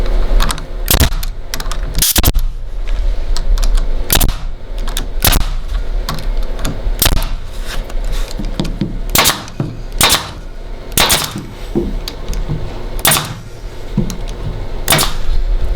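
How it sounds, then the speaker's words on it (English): A staple gun fires repeatedly into pool table cloth while the cloth is fitted and secured around the pockets, with sharp, loud clacks at irregular intervals, about a dozen shots over several seconds, close up and without talk. "get more staples in, get it secured and start to get it tidied up"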